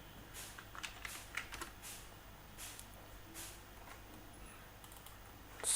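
Code being typed on a computer keyboard, with soft, uneven key clicks in quick clusters and short pauses, quiet and close.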